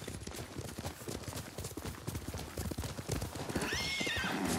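Horses clip-clop at a steady gait in the video game Ghost of Tsushima, with a whinny rising near the end over continuous hoofbeats.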